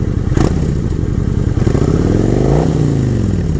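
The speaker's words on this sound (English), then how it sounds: "Rev it a little bit, see if there's just any abnormal knocking, ticking, clunking, anything like that out of the normal." A used motorcycle engine revs up and settles back while being checked over at close range, its loud, steady mid-pitched drone rising in pitch and then falling away, with a few light clatters and thumps; no one speaks.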